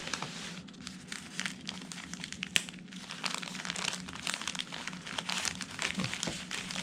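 Tissue paper wrapping inside the box of newly delivered OEM JDM side marker lenses for a 2019 Mazda MX-5 crinkles and rustles continuously while being unwrapped, close and soft, with one sharper crackle partway through.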